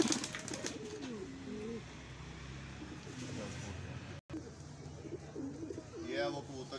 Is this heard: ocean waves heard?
no